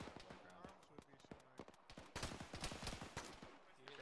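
Rapid bursts of rifle and machine-gun fire in an Arma infantry firefight, sharp overlapping cracks coming in irregular volleys that grow denser and louder in the second half, with radio chatter mixed in.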